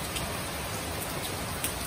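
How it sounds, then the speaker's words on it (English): A torrential monsoon downpour in Poona, a constant full wash of rain striking surfaces, with a few nearer drops and splashes standing out from the steady roar. "Just pouring down."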